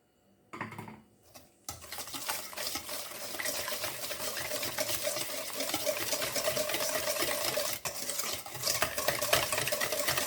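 An egg is stirred into coconut roll batter in a bowl, a steady soft wet mixing sound that runs continuously after a few brief knocks at the start.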